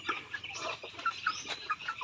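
Native chickens cluck softly nearby in quick, uneven bursts, a short run of low clucks and chirrups with nobody talking.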